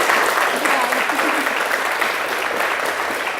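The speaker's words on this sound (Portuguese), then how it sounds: "Gente, uma salva de palmas para Cris" A crowd gives a round of applause for a shy guest, steady dense clapping that carries on evenly from start to end.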